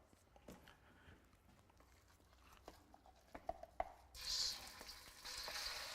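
Spice paste frying in vegetable oil in a hot wok, with a few quiet stirring knocks first and then a sudden rise into a steady, close hiss and sizzle.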